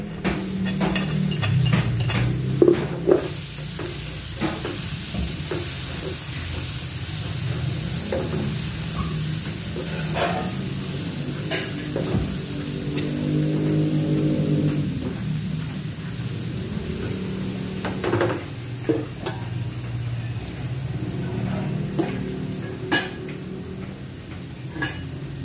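Ginger, garlic and onion sizzle in a hot pan, a constant frying hiss broken by spoon scrapes and clinks against the pan as they are stirred, close and fairly loud.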